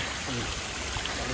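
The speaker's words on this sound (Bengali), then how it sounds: "এখানে আমরা একটা ছোট্ট ঝর্ণার আবিষ্কার করেছি" A small mountain stream trickles near a temple in a cool forest spot in East Sikkim, a steady close wash of running water.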